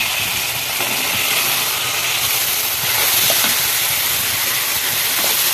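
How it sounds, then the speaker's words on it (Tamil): Tomato, green chilli and capsicum sautéing in a pan for a capsicum pepper egg gravy, giving a continuous loud hissing sizzle with no pauses. "குடமிளகா போட்டு பாருங்கள் ஓரளவுக்கு நல்லா வதங்கிச்சு"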